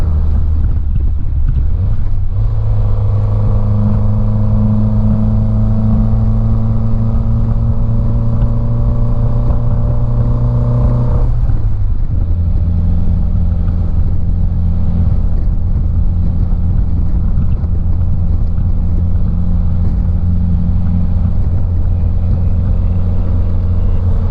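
A 1955 MG TF 1500 engine drones loudly and steadily at speed, near 60 mph and about 3,500 RPM, then briefly drops in pitch at a gear change before settling into a lower, even hum.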